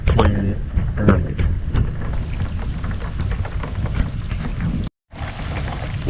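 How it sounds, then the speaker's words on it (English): Heavy rain pours onto a wooded free campsite at Dead River Landing, a dense, loud, close hiss of drops striking surfaces that continues steadily, broken only by a brief dropout near the end. "We are still getting rained on,"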